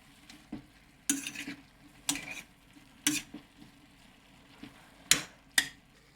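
Chicken pieces frying in a pan are stirred in several distinct scraping bursts over a quiet low sizzle, each stroke sharp and close, with no talk.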